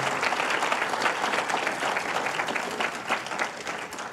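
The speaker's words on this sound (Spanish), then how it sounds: "Denle un mejor aplauso, por favor." Sustained applause from a church congregation during a sermon, dense steady clapping that holds at an even level and trails off slightly toward the end.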